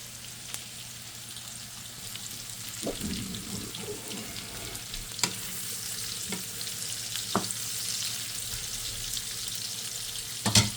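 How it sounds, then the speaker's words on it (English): Chicken thighs and potatoes frying in a pan, a steady soft sizzle with occasional pops and scrapes, fairly quiet and without talk. "Let that fry for a little bit there."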